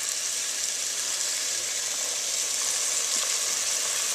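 Battered pieces frying a few at a time in a pot of hot oil give a steady, close, even sizzle that holds for the whole stretch with no talk over it.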